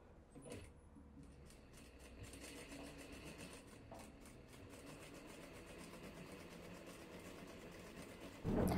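A sewing machine stitches darts on the front of a dress with dropped shoulders, a rapid continuous mechanical whir and clatter that runs for several seconds and pauses briefly, ending with a louder bump.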